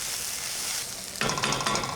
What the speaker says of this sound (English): Once the onions caramelize, we'll bring it back and we'll revisit the whole thing.